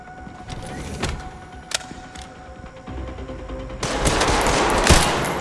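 Gunfire bursts in the video game Resident Evil Requiem, sharp cracks followed by a denser, louder stretch of rapid automatic fire toward the end.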